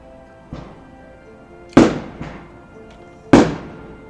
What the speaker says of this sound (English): I don't know if you can hear that, but there's more fireworks going on.